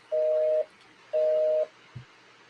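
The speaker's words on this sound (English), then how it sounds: "The phone is busy." Telephone busy signal: two clear, even tone bursts separated by a short silence, followed by a faint click.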